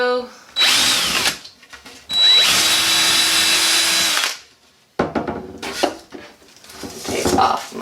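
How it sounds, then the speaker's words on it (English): A power drill bores through barn board wood in two loud sustained bursts, motor whine rising and straining, followed by shorter clattering handling noises nearby. "Drill through."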